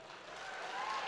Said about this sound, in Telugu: ఇక్కడ చప్పట్లు కొట్టచ్చు బాగానే.